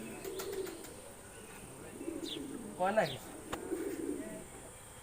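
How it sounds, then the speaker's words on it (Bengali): Pigeons coo at a bird enclosure at the Faridpur Atroshi Darbar, with chirps mixed in, moderately close. People talk and voices drift through the background. "কবুতর গুলো অনেক দামি ভিতর দিয়ে দেখাও তো দেখি দাও পায়রা দামি দামি কবুতর"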